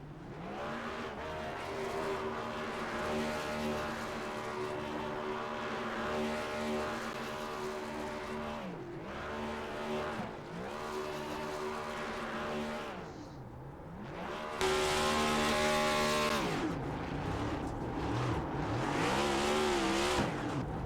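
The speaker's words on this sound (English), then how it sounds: "we're going to do some burnouts here for the fans in the stands" Stock cars revving hard and spinning their tires in burnouts at Texas in a racing video game, loud engine roar rising and falling with a harsh, louder stretch of tire spin near the end, no talking.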